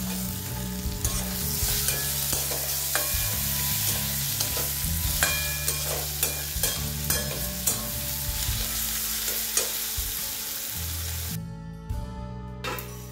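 Chicken with tomatoes, coriander powder and spices frying in mustard oil, a steady close sizzle with a spoon scraping and stirring in an uneven rhythm, then cutting briefly near the end.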